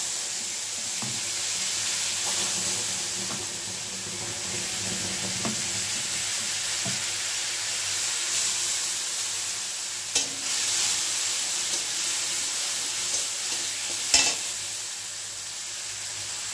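Spice paste frying in hot oil tempered with bay leaf, cardamom and cloves, a continuous close sizzle with stirring scrapes and a couple of sharp clinks.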